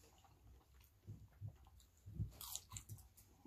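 Close, quiet bites and chewing on a crunchy fried cheese curd from A&W, with several soft crunches and moist chewing sounds spread over a few seconds and no speech.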